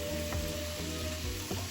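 Cheesesteak meat cooking in a pan with beer, a dense, even sizzle with a couple of soft stirring bumps, close and steady.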